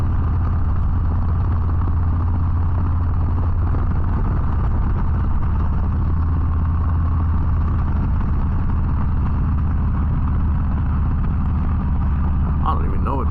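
Motorcycle engines at a bike meetup at Pagoda Press in Pagoda, idling with a loud, steady low rumble that holds unbroken throughout.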